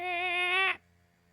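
A single sustained cat meow, clear and fairly close, ending abruptly and followed by a quiet background hum.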